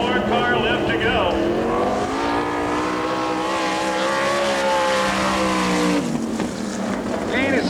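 A sprint car tears down the back straightaway of a dirt track during All Star Circuit of Champions time trials in Woodstock, Georgia, its loud engine whining and shifting pitch as it passes, with an announcer talking over it.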